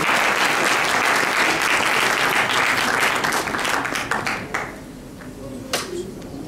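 Loud, sustained applause from a large audience at a youth gala evening honouring a guest, thick and continuous before thinning into a few scattered claps near the end.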